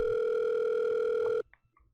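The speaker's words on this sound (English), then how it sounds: "The dial tone rings on faintly." A steady telephone dial tone plays in the Doki Doki Literature Club video game, loud and unbroken for about a second and a half before cutting off abruptly, followed by a few faint clicks.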